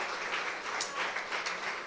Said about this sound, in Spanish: Terminemos dándole un fuerte aplauso al Señor por su misericordia